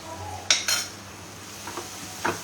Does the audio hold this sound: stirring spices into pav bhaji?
yes